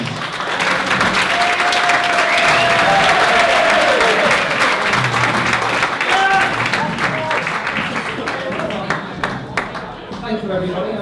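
Wedding guests applaud the father of the bride in a long, full round of clapping with cheers and whistles, tapering off as scattered voices talk near the end.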